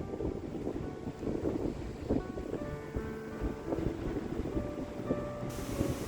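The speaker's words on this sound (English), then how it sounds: "The wind is blowing a bit now, a little bit more" Wind blows steadily outdoors in Yachats, making a continuous rough rumble and buffeting on the microphone that stays loud throughout. No voices.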